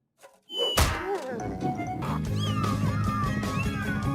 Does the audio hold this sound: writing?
no